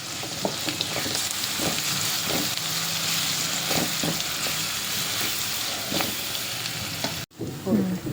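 Mutton keema frying in a pan, giving a continuous close, dense sizzle with intermittent stirring scrapes, then a brief cut and a soft clatter near the end.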